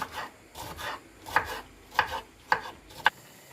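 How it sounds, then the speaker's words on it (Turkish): A knife finely chops peppers on a board for menemen: about seven crisp, rhythmic cuts spaced roughly half a second apart, close and clear with no talking. "Şöyle ince ince kıyarsak daha lezzetli oluyor melemende."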